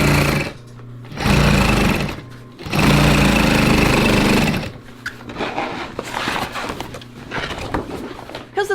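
Old sewing machine stitching sail seams, loud fast rattling bursts of stitching separated by short pauses, then lighter uneven mechanical clatter near the end.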